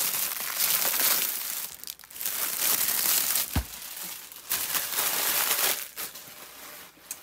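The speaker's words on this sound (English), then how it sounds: "crinkle alert" Plastic packaging on a Lizzy Falcon Cruella diamond painting kit, 60 by 80, crinkles and crushes steadily up close, with louder bursts and a sharp snap partway through; no one speaks.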